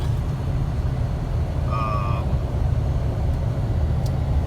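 A Land Rover LR3 fitted with a BMW 4.4 V8, cruising on the freeway and heard from inside the cabin as a loud, steady, low engine and road drone with a brief whistling tone partway through.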